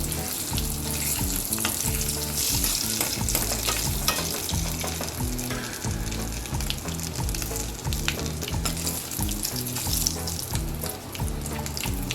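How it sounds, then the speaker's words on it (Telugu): Steady, loud sizzling of tempering spices and curry leaves frying in hot oil, continuous throughout with occasional crackles and stirring scrapes, close by. "ఈ పోపు అనేది బాగా వేగిపోయింది"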